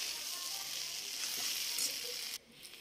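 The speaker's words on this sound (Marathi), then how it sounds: "मस्तपैकी तेलामध्ये परतून घ्यायचा आहे, म्हणजे खूप छान असा खरपूस होईल" Okra thecha frying in oil in a pan, a steady bright sizzle that cuts off abruptly near the end, close and moderately quiet.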